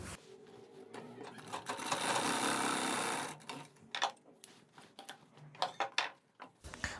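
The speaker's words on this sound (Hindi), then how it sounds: "इसमें यहाँ पर एक सिलाई लगाएंगे बीच में, ताकि नेक आपका जम जाए और इधर उधर ना सरके।" A sewing machine stitching a collar neck onto a kurti, running in a fast whirring burst for about three seconds, then short ticks and clicks of handling, close and quiet.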